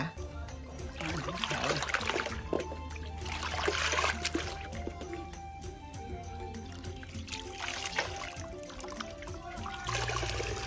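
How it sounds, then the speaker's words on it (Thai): Thai silk yarn being rinsed in clean water, with steady trickling, dripping and sloshing as the skein is lifted and moved in a basin, close and fairly quiet. "แล้วยกออกมาล้างน้ำสะอาด เปลี่ยนองถึงสามน้ำหรือจนน้ำล้างเริ่มใสค่ะ"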